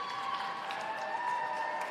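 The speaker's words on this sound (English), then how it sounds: "You hear the crowd." Crowd at a high school wrestling senior night cheering and clapping in a gym, a dense steady wash of applause and voices with no break.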